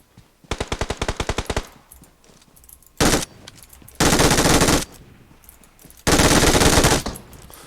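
Bursts of gunfire from a bot in PUBG Mobile: a rapid rattling volley of about a dozen shots, then three loud sustained blasts of fire separated by brief pauses, close and dominant with no talk over it.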